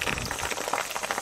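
A hot resin and water varnish mixture bubbles as it cooks, giving a continuous soft popping and simmering texture at a fairly quiet, close level with no talking.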